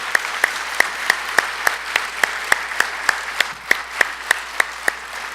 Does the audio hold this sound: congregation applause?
yes